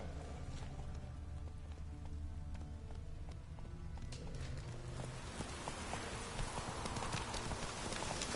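Horse Roach's hooves clip-clop steadily across the whole stretch in The Witcher 3, set against a busy bed of game music and ambience, with the steps growing a little brighter and denser toward the end.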